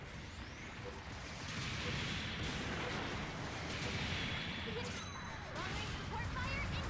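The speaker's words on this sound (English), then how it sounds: "Long-range support fire incoming!" Long-range support artillery fire in the video game GBO 2, heard as a steady wash of booming, rumbling blasts mixed with in-game noise and voice chatter for the whole stretch.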